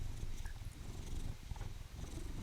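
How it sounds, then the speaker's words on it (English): A large cat purrs steadily and continuously at close range, a soft low rumble with a gentle rhythmic pulse and no other sounds. "big boy likes to purr"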